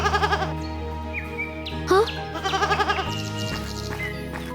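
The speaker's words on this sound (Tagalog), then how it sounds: "nakakita si Freya ng sugatang babaeng kambing sa hardin at iniuwi ito para alagaan." An injured female goat in an animated fairy tale gives a few wavering bleats close by, set over a soft musical backdrop with light chirping.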